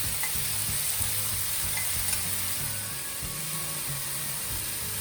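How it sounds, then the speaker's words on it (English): Soya granules fry and sizzle steadily in a hot pan, a continuous close crackle with faint stirring scrapes, no voices. "I'm going to add the soya granules into this and let that just cook a bit"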